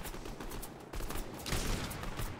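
Rapid gunfire in Fortnite during a close fight, dense bursts of shots with a louder stretch near the end, loud and continuous, no talk.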